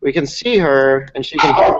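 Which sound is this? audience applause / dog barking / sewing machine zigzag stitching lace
dog barking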